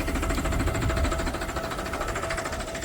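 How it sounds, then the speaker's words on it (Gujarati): A tractor engine runs at a steady idle on a farm with a constant mechanical hum and rattle, close by, unchanging throughout. "તો આ છે આપણું જીપીએસ વાળું ટ્રેક્ટર"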